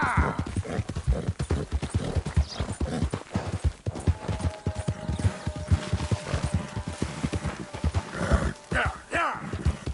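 A horse gallops in Red Dead Redemption 2, with fast drumming hoofbeats under a man's spoken urging and the game's ambient sounds, close and fairly loud throughout.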